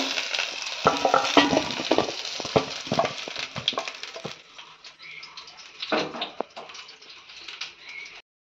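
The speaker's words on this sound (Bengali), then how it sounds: "পটলগুলো ভাজা হয়ে গেছে, পটল ফ্রাই কমপ্লিট" Pointed gourd and potato pieces frying in oil in a pan, with a crackling sizzle and clattering stirring up close that fades to softer frying and a few scrapes before stopping.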